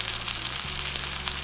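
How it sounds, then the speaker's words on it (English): Steak and green beans seasoned with olive oil, salt and pepper sizzle steadily in a hot pan, a continuous hiss with faint crackles and no talking. "You guys hear that sizzle?"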